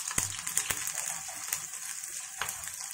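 Steady hot-oil sizzling from chopped chili, curry leaves and onion frying, with a few sharp clinks and stirring sounds over the crackle, no voices.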